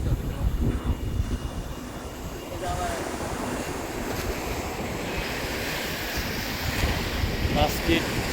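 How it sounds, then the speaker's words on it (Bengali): Airplane landing near the beach at Cox's Bazar, a broad distant jet roar that swells gradually over steady surf and gusting wind on the microphone. "3 মিনিট পর পর বিমান ল্যান্ড করতেছে।"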